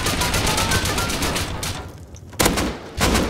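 Rapid automatic gunfire in a survival game raid, sustained bursts of shots that pause briefly and then resume, loud and close.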